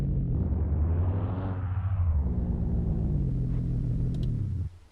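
A truck engine in the video game Mon Bazou starts up and runs with a loud, steady low rumble that rises briefly in pitch and then settles before cutting off abruptly near the end.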